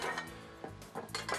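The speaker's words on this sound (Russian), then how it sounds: "Теперь я закину спаржу в кастрюлю с кипящей подсоленной водой." Asparagus dropped into a pot of boiling salted water in a home kitchen, with close clinks of metal pot and utensils and a few short knocks spread over a second and a half.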